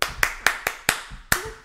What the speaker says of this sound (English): I can make your hands clap